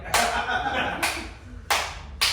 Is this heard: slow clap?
yes